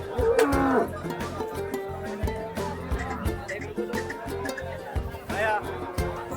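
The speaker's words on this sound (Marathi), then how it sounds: "ही तिसऱ्या याताची गाय आपल्याला या ठिकाणी पाहायला मिळते" Cows low at a busy cattle market in Baramati, one long moo near the start and another near the end, over steady crowd chatter and background noise.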